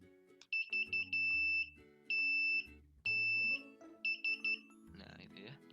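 An electronic buzzer wired straight to ground and positive on an IoT breadboard circuit, with its 200-ohm resistor removed, sounds loud repeated beeps in short bursts and longer sustained tones, with a voice talking underneath.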